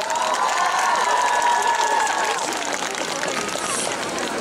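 Concert audience at a Ratha-yatra festival event claps and cheers steadily throughout, a dense crowd wash of applause with some voices rising above it.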